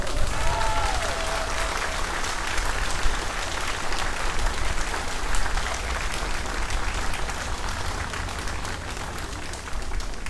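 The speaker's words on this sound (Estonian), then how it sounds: "Ning selle kõige eest veel suur aplaus talle." Outdoor rally crowd applauding a speaker, sustained clapping lasting about ten seconds at an even level, with a faint whistle near the start.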